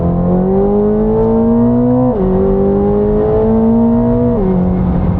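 A 1000 hp Corvette ZR1 pulls hard from a 60 mph roll, its engine droning loud and close as the pitch climbs steadily, drops briefly at two gear shifts, and climbs again.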